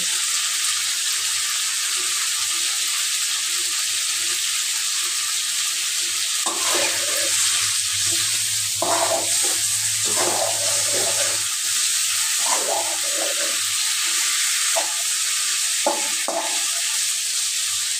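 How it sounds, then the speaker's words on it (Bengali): Fried potatoes go into a sizzling pangas fish curry that has been cooked down with spices. A steady, loud frying hiss runs throughout, with stirring clatters and bursts of spitting oil in the second half. "এখন ভেজে রাখা আলুগুলো দিয়ে দেবো"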